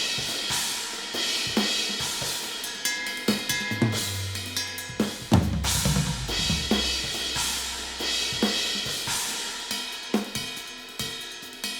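Unprocessed drum overheads summed with the spot mics on a cymbal bus: sharp, regular hits with washing cymbal decay, loud and close, and a low sustained tone swelling through the middle of the groove.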